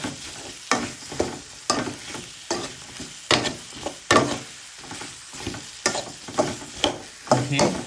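Surma fish and pointed gourd being stirred in a hot pan, with repeated rhythmic scraping strokes over a steady sizzle, close and fairly loud.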